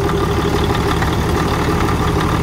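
A Caterpillar D6 bulldozer's heavy diesel engine idles with a steady low rumble and throb, continuous and close, with no talking.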